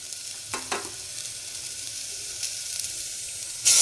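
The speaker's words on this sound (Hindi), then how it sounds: "फिर इसको हम इसको फ्राई कर लेंगे" Daliya mixture frying in a pan with coriander powder, a steady close sizzle with a few stirring scrapes and a louder burst of sizzling at the very end, no talk.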